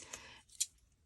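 Two crisp snips of craft scissors cutting paper, a softer one early and a sharper one just after the midpoint, close by in a quiet room.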